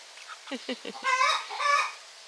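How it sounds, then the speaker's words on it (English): Chickens and newly hatched chicks cluck and chatter nearby in short bursts, a few quick clucks followed by longer, louder squawking calls. "Look at these silly chickens."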